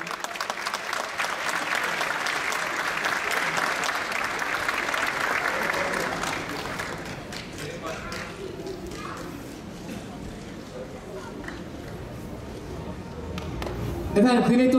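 A hall audience claps heartily at a youth choir's Atatürk commemoration program, steady and full for about six seconds, then thins into scattered claps and crowd murmur before a voice returns near the end.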